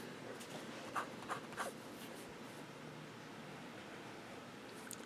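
Fountain pen with a wet-writing medium nib scratching across paper, a few faint soft strokes in a quiet room, close and alone.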